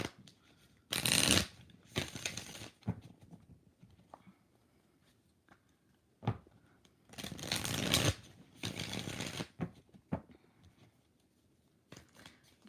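Tarot cards are shuffled in several quick riffling bursts, crisp and close, separated by quiet pauses with a few small taps and handling sounds between them.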